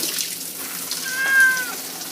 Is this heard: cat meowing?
yes